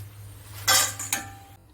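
A ladle scoops fried tapioca chips out of a pan of hot oil, a bright metallic scrape and clink followed by a second shorter scrape over a low background hum.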